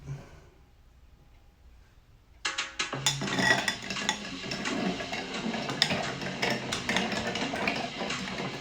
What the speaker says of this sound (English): we're going to want to try to preserve the clarity of the spirits in the booze by stirring instead of shaking